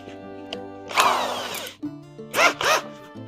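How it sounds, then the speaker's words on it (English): Two bursts of harsh, whining power-tool drilling through metal with a step bit, the bit grinding and squealing, separated by brief pauses with a low motor hum underneath. "I'm going to try using a step bit"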